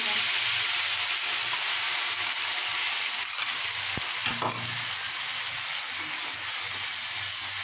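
Spice paste frying in hot oil for a hilsa fish curry, a loud dense sizzle running continuously close up, broken by a couple of sharp spatula scrapes against the pan.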